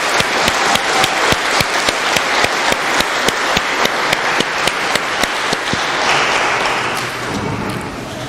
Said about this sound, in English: Give Hank a round of applause.